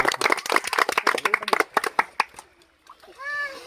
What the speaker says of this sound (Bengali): তার জন্য সবাই একটা হাততালি দাও তো।